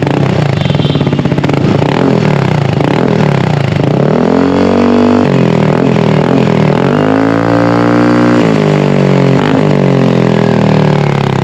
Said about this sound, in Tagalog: GP2 na walang silencer